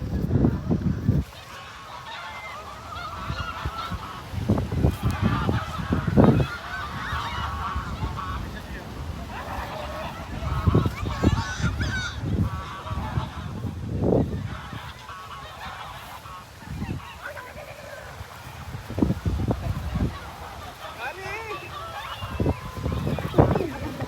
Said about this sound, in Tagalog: At dito nga ay napakadami pa ding pato at itik sa paligid.